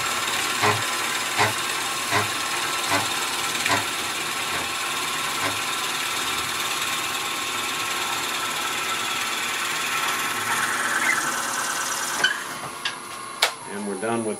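A drill whirs steadily as it bores slowly into a wooden woodturning faceplate, with faint rhythmic thumps and brief knocks as it finishes and stops.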